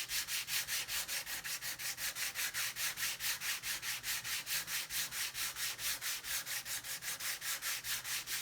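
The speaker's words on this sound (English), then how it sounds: "Just use your sanding block on the actual headstock itself." Steady back-and-forth rasping of a 180-grit sanding block worked flat across a wooden guitar headstock from a TE-style guitar kit, close and continuous in even strokes of about three per second, with no voices.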